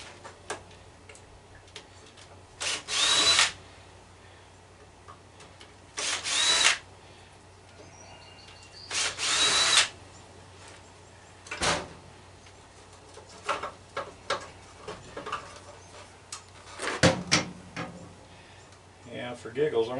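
Power drill backing three Phillips screws out of a Razor electric scooter being scrapped for its motor, in short loud whirring bursts separated by gaps, with clicks and ticks of handling between them.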